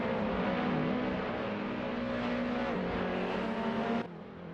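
Race car engines drone loudly and continuously from an AI racing game, an Alfa Romeo 156 GTA battling a Mercedes C200, steady high-revving motor noise that drops in level near the end.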